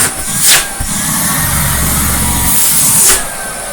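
A battery-powered Numatic vacuum cleaner with strong suction runs loud and close, a steady motor drone that swells briefly twice as the airflow changes.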